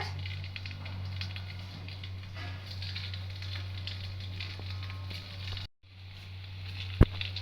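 A chapati roll deep-frying in hot oil gives a steady, close sizzle with a low hum beneath it, briefly cut off, then resuming before a sharp clink near the end.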